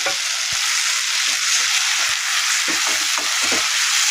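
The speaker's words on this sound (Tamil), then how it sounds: "இப்போ ரெண்டு தக்காளி பழுத்ததை அடித்து சேர்க்குறேன்" Steady, loud broadband sizzle of blended ripe tomatoes frying in a pan, with occasional soft pops and stirring clicks, no voices.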